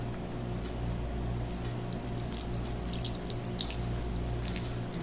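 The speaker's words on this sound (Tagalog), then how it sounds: "Tapos, saligyan natin siya ng tubig." Water poured from a glass onto a cut-open disposable diaper in a plant pot makes a steady, close splashing trickle over a constant low hum, continuous for a few seconds with no speech.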